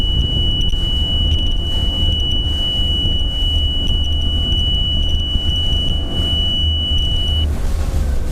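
A steady high-pitched check-engine alarm tone sounds continuously from a Johnson 200 hp outboard over the engine's loud, rumbling run at about 4,000 RPM, then stops shortly before the end.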